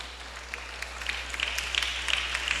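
Scattered clapping from a congregation at a church service, a steady, fairly faint patter of hands that swells slightly toward the end, with no voices over it.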